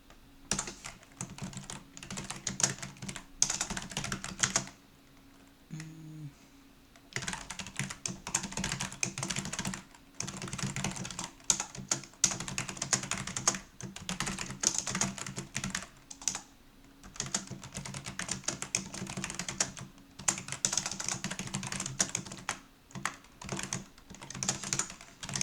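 Steady run of computer keyboard typing while code is written in a C++ editor, dense clicking keystrokes in bursts with one short pause and no talking.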